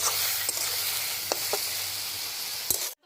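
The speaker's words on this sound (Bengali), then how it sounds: "যতক্ষণ আমার খারকুর পাতাটা ভাজা ভাজা হচ্ছে" Kharkol leaves frying dry in oil with salt and turmeric, a steady close sizzle throughout with a few faint stirring clicks before it cuts off abruptly near the end.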